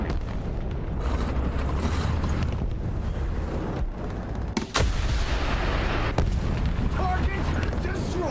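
A naval gun fires in a video game, with loud cracking blasts cutting through a dense, roaring battle soundscape. Two main shots come in the second half over continuous rumble, and a voice speaks.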